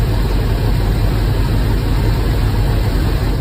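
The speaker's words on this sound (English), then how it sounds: "I don't know if you guys can hear the engine change or not, but this hose is now plugged back into the brake booster" A 1962 Pontiac engine runs steadily with its brake booster vacuum hose reconnected, giving a loud, constant low rumble with no break or change in level.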